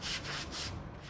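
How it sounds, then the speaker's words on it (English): Brooms sweeping a flood-damaged street in Pentre, Wales, with rhythmic swishing scrapes repeating about every quarter second, steady and close in an otherwise quiet setting. "But for the sound of sweeping"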